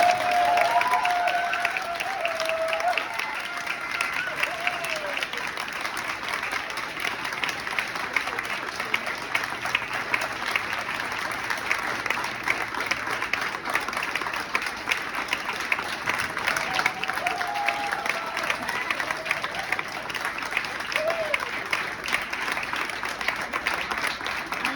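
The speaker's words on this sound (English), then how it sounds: "big applause for Lars." A crowd at a dance workshop farewell gives Lars long, sustained applause, a dense rattle of clapping with a few scattered cheers and brief whistles rising over it.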